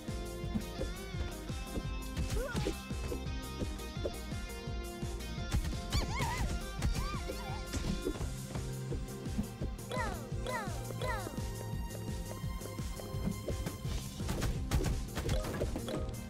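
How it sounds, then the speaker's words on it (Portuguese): Breakable scenery items smash repeatedly in the Maiden Cops beat 'em up game, sharp crashes and hits scattered through dense, loud game music for the whole stretch. "Tem uma quantidade bacana de itens quebráveis no cenário."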